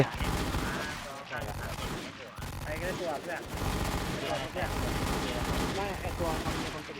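Dense, continuous gunfire in a shooting video game, rapid bursts and booms running back to back with barely a pause, loud and close throughout.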